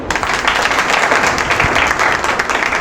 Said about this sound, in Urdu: آپ بڑے تالیاں ماریں